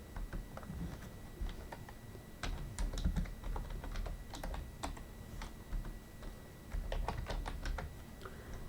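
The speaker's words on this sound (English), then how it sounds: "So I'm just typing in the box." Quiet, irregular tapping of keys on a computer keyboard, coming in short bursts with brief pauses in between.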